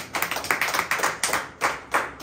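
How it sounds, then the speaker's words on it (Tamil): Hands clap in a quick, irregular series of sharp claps at close range, about a dozen crisp hits over a couple of seconds, with no speech. "கைத்தட்டி ஆண்டவர் மகிழ்ச்சி."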